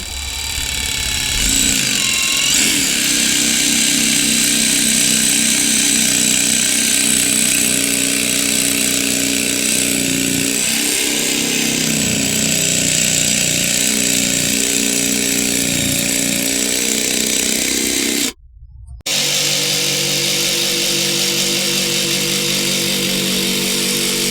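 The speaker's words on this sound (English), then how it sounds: "And then I have to cut it out with a jigsaw" A jigsaw cuts calcium silicate boards for a wood-fired oven floor, giving a loud, steady buzzing drone that runs almost without a break, cutting out for about a second near the end before resuming.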